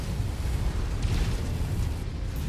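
Explosion of a destroyed enemy mech in MechWarrior 5, a dense low rumbling blast that rolls on for a few seconds at steady moderate loudness, with a brief brighter crackle partway through.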